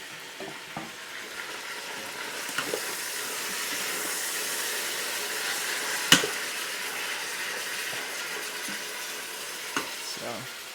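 Pork and tomato fry in a pan with a steady, close sizzle and hiss, broken by a few sharp clicks and scrapes of stirring, with no voices over it.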